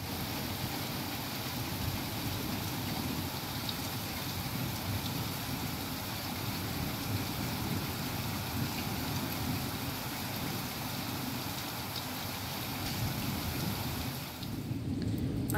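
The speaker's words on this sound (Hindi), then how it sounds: "आप सुन रहे हो ना बारिश की आवाज़ कैसी आ रही है" Monsoon rain falls steadily outdoors, a continuous broadband hiss of drops on surfaces, even and fairly close throughout with no voices, briefly dipping near the end.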